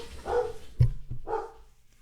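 Dogs bark indoors, two separate mid-distance woofs about a second apart with a thump between them.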